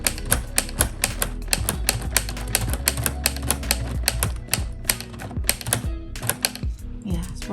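A LEGO Ideas typewriter model clacks like a real typewriter, with rapid irregular bursts of sharp plastic key strikes, close and loud, and a brief pause near the end; a person talks quietly underneath.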